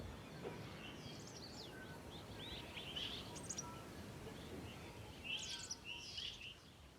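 Faint, distant birds chirp and call sporadically at dawn over a quiet, hushed open-air background in the Ngorongoro.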